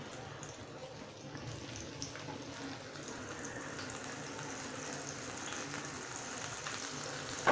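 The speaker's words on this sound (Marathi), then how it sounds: "मी सगळे बोंबील फ्राय करायला ठेवलेले आहे रव्यामध्ये चांगले डीप करून घेतलेत आणि फ्राय करायला घेतलेत" Bombay duck fish coated in semolina deep-frying in oil produces a continuous, low, even hiss of bubbling, soft and unbroken, with a brief clatter right at the end.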